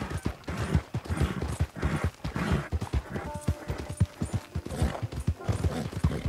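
A horse gallops in Red Dead Online, its hooves drumming in a fast, steady clip-clop rhythm close by. A faint voice is barely present underneath.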